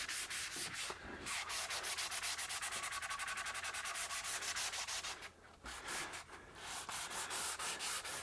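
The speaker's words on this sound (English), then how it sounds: "So quick little rub with some 400 grit sandpaper." Rhythmic rubbing of 400 grit sandpaper across a stained guitar body along the binding, steady back-and-forth strokes close up with a brief pause midway.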